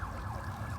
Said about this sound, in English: nice silent sirens here in Hollywood